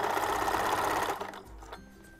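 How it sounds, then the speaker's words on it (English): A sewing machine back stitches fabric for an overnight bag, a fast close mechanical whirring for about a second, then slowing and stopping into quiet clicks. "I'm going to back stitch a little"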